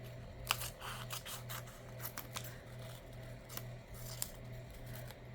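Scissors snip through a Cheerios cereal box label for a junk journal, with several sharp cuts spread across a steady hum, close up and without talk.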